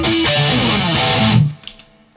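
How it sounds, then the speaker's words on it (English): A saturated electric guitar through a high-gain distortion pedal chugs loudly for about a second and a half, then stops, leaving a short muted rattle. "this is like a high gain, high saturated distortion pedal."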